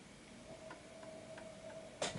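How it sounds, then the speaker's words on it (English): An antique Westminster chime clock ticks faintly and steadily, a slow, regular pulse of light clicks, with one sharper knock near the end. "Now I can hear that clock is ticking quite nicely."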